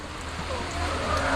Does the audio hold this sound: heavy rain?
yes